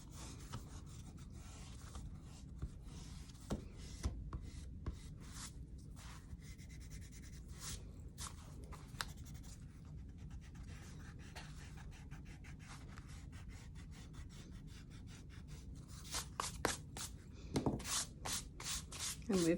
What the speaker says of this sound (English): I'm going to go in with my eraser and clean things up a little bit